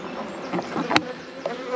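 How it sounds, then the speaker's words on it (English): Honey bees buzz around a hive with a drone-laying queen, giving a faint, close hum with a few brief louder passes and a sharp click midway, and no talking. "These bees belong in there."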